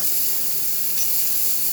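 Continuous, strong steam hiss from a Quick Mill Silvano Evo espresso machine after a full tune-up, a bright, unwavering rush heard up close with no voices.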